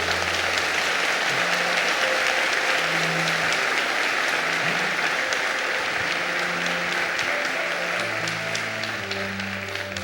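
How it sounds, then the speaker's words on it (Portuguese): A church audience applauds at length during a Mass homily, with dense, sustained clapping from many hands throughout and low tones from an organ or hum running beneath. "Se vocês bateram palmas aqui"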